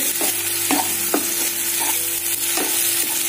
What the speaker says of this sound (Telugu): పచ్చివాసన పోయే వరకు బాగా ఫ్రై చేసుకుందాం జింజర్ గార్లిక్ పేస్ట్